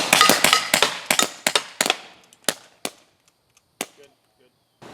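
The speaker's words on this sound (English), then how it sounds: "And open fire." Shots fired at an outdoor shooting range: a rapid string of loud cracks that then slows to a few spaced shots, each with a short fading echo.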